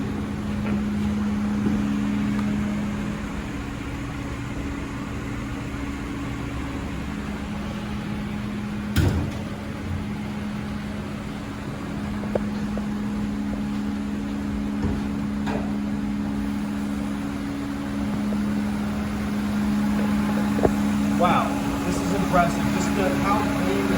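A Subaru Outback engine idles quietly with the hood open, a steady low hum under someone talking throughout, with a brief knock partway through.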